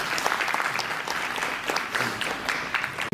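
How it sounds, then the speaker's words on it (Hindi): An indoor audience gives a steady round of applause, with dense even clapping that holds for a few seconds. "एक बार फिर से राहुल जी ताली दीजिए"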